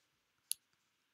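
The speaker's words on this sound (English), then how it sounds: "Keyboard." A single sharp keyboard key click stands out against near silence, followed by a fainter second tap, close and quiet.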